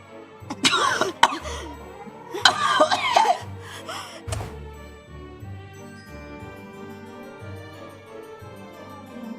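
A few harsh coughs and throat-clearing bursts close by, then quieter breathing and low background tones.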